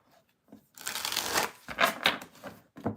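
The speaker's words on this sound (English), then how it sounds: "Last shuffle for the Libra" Tarot cards are shuffled by hand close up in a few quick, crisp bursts of riffling and shuffling with short gaps between them.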